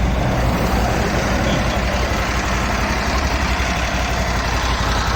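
A motorcycle engine runs loud and close on a tour of Poland after a lighting repair, a dense unbroken drone that holds level throughout, with no talking.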